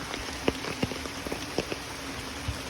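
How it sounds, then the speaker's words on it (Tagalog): Rain falling along a slippery path toward a native pig area in the mountains, a soft constant patter with scattered louder drops tapping nearby surfaces. "kasi maulan"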